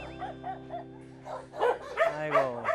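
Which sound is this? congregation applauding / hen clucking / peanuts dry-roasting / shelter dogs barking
shelter dogs barking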